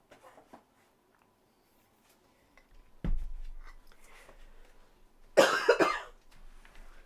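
A sudden sharp cough breaks a quiet stretch, followed by a brief rumble and a second harsh, breathy cough burst a moment later, close and loud.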